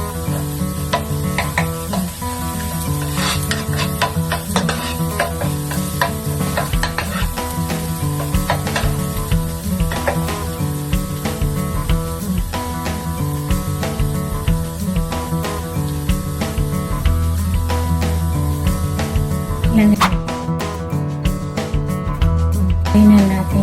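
Pork belly sizzles and fries in a pan as it browns, a continuous loud crackling hiss with occasional stirring clatter, persisting steadily for over twenty seconds.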